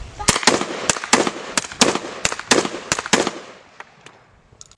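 A .22 and a 12 gauge fire in alternating pairs, sharp loud reports in a steady repeating rhythm like a normal heartbeat, about a dozen shots before fading into quiet.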